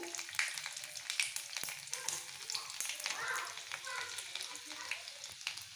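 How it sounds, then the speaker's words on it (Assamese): Panch phoron spices and split garlic cloves frying in hot oil for a fish curry with ou tenga, a steady close crackling sizzle with scattered sharp pops throughout. "এতিয়া দিম তেল গৰম হ'ল, এতিয়া দিম পাঁচফোৰণ, নহৰু দুটা এনেকৈ ফালি দিছোঁ।"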